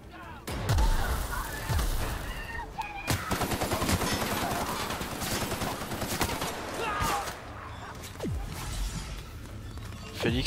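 Rapid gunfire in The Outer Worlds, with dense bursts of shots and several heavier booms across the whole stretch, loud and close, with a voice speaking French over it now and then.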